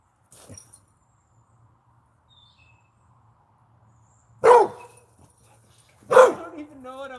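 A puppy gives two sharp, loud barks about two seconds apart, with a faint yip near the start and a little whimpering afterward in a quiet room.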